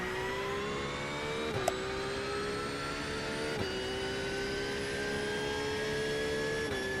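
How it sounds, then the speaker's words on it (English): A GT3 race car engine in the iRacing sim drones loudly and steadily with a high-pitched whine, its pitch climbing gradually with a few brief dips at gear shifts, and no talking over it. "I love the way this car sounds."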